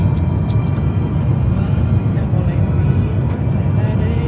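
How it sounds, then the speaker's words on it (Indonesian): A passenger airplane arriving in Zimbabwe gives a loud, steady cabin roar and low engine rumble, heard continuously from inside the aircraft with no clear speech. "Pesawat sudah landing dan segera mencium bumi Zimbabwe"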